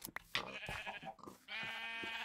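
A sheep bleats in a drawn-out, wavering cry, nearby and fairly clear, following a few shorter bleats and scuffling sounds; no one speaks.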